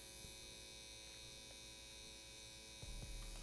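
Mast Fold Year of the Tiger Edition tattoo machine fitted with a DK Labs needle and running at 8 volts, giving a steady, even electric hum that holds throughout with no talking.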